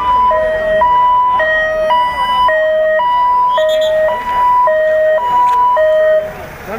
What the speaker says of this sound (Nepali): यो चाहिँ धुलिखेलको दमकल होला सायद